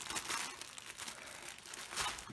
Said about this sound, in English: just because it wasn't crinkling enough, they put tape all around it